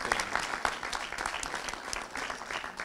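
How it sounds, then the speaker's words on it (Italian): Outdoor crowd applause at the inauguration and blessing of a railway underpass in Brucoli, Augusta, with steady, moderately distant clapping that continues evenly throughout. "facciamo un applauso"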